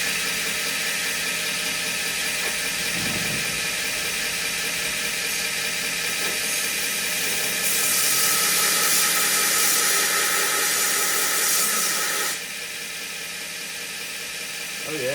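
A belt grinder fitted with a waterfall platen runs with a steady, loud whirring hiss, then grinds a knife blade, the rasping noise intensifying through the middle stretch before easing back to the running belt.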